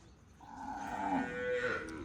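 A Kankrej cow on a farm lets out one long, drawn-out moo that rises and holds before tapering off, fairly faint and heard alone.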